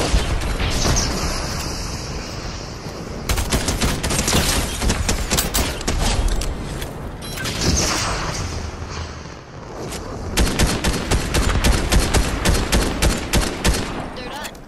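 Rapid bursts of automatic gunfire and explosions fill a Fortnite match, with dense repeated volleys and booming impacts running nearly throughout, loud and close, with a few quieter gaps between flurries.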